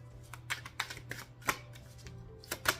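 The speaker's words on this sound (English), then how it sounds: "I'm gonna shuffle." Tarot cards being shuffled by hand in a series of crisp riffling bursts, each lasting a moment, over a steady low hum, with no talking.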